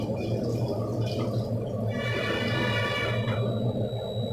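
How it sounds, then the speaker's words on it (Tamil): Water runs steadily into a pot, a continuous pouring stream with a rising ringing tone as the vessel fills, over a low background hum. "இதை கொஞ்சம் தண்ணி ஊற்றிக்கோங்க."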